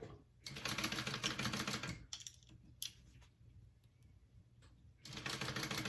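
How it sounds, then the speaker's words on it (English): Sewing machine basting a zipper down for a convertible bag, running in several loud bursts of fast stitching separated by quieter pauses with light handling clicks. "I'm going to baste this down"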